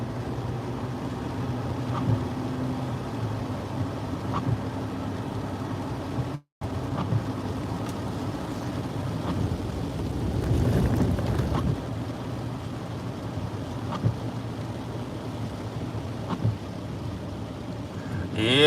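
Steady broadband rumble of a car interior driving in heavy rain in Charlotte, North Carolina, a brief dropout midway, and a swelling wash of spray around the middle.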